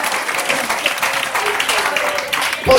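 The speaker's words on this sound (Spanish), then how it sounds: "le das un aplauso" Church congregation applauding during a sermon on stewardship, a steady wash of clapping hands filling the room for nearly three seconds, with a louder burst at the very end.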